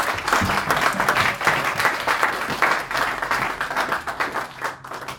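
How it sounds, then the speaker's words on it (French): A church congregation applauding for Jesus: loud, close, continuous clapping from many hands, with rhythmic pulses throughout and faint crowd noise beneath. "Est-ce que nous pouvons acclamer pour Jésus?"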